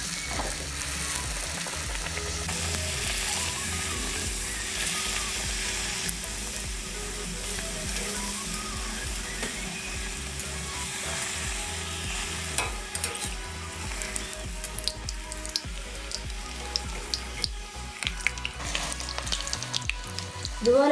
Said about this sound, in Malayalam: ഇതുപോലെ മറിച്ചിട്ട് രണ്ട് പുറവും വേവിച്ചെടുക്കണം.